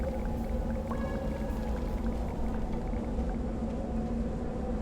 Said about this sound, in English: Uh-oh. Windstorm incoming.